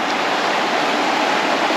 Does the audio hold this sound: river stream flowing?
yes